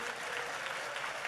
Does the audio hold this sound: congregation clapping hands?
yes